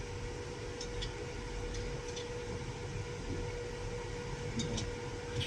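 The engine cooling fan of a 2018 Mercedes Sprinter, stuck in a 20 km/h limp mode with an AdBlue fault, runs as a steady whirring drone with a faint constant tone and light ticks, no talk.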